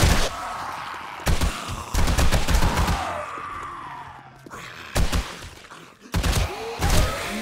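Repeated gunfire from the survival video game 7 Days to Die: loud bursts of rapid shots in several clusters separated by short pauses, with no talking.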